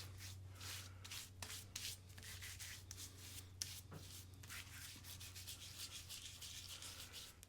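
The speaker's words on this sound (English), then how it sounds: "just going to grab my Leaf Shave soap here, just in my hand, and do a hand lather" Hands lathering Leaf Shave shaving soap, a soft, close, continuous rubbing and squishing with irregular strokes over a low background hum.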